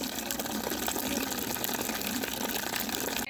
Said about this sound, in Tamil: நல்லா அலசி எடுத்துக்கணும்.